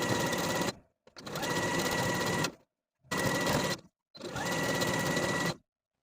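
A sewing machine runs a triple zigzag stitch along the raw edge of an elastic underwear waistband, whirring in four steady bursts of one to two seconds, separated by short silent pauses.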